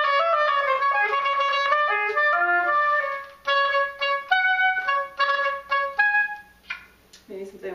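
An oboe plays a solo audition passage alone, a flowing line of notes that slows with a ritardando, pauses briefly, then continues with shorter phrases.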